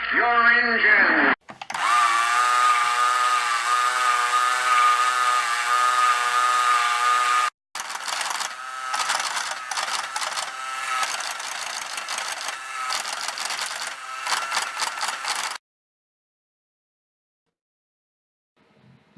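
A small replacement DC motor in a vintage 1979 Atomic Arcade pinball toy runs with a loud, steady high whine and buzz, briefly stops, then restarts with a rougher rattling drone before cutting off into silence.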